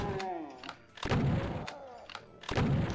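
Bursts of gunfire from gunner enemies in Doom, three loud booming volleys spaced about a second apart, each with a sharp attack and a rumbling tail in a sewer level.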